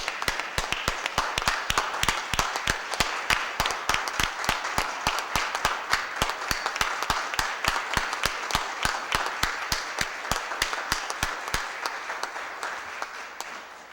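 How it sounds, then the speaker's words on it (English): Sustained audience applause fills a Board of Aldermen meeting room, many hands clapping in a dense, steady patter with sharp individual claps standing out close by, holding for the whole stretch and thinning slightly toward the end. "Let's give Ms. Page a big round of applause"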